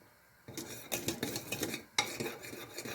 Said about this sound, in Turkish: Karıştırmayı hiç bırakmadan pişiriyorum.